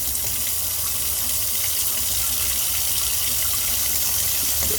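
Warm tap water rinses a bleached animal skull for a European mount, a loud, steady gush of running water with no pauses.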